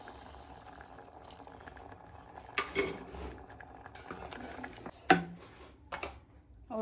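Milk sweetened with sugar simmers in a pot, giving a low bubbling boil broken by a few clinks and scrapes of a utensil against the metal, close and moderately quiet.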